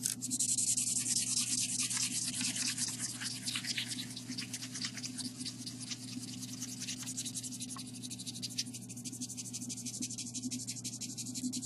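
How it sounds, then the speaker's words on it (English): Pencil shading in a circle on paper, a steady scratchy rubbing that runs continuously throughout at close range over a low background hum. "So we're going to shade that in."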